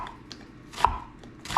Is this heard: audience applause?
no